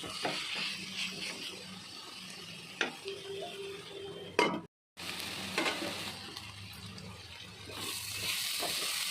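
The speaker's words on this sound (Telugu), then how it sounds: "మధ్య మధ్యలో కలుపుతూ ఒక పది నిమిషాల పాటు ఫ్రై చేసుకుందాం" Cluster beans curry frying in a pan under a soft, steady sizzle, with occasional scrapes and clinks from stirring. It is fairly quiet and close, with a brief silent gap partway through and no talking.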